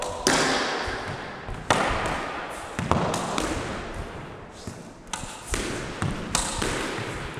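A squash ball is struck repeatedly in a solo drop shot and volley drill, sharp echoing thwacks spaced about a second apart with court reverb between hits.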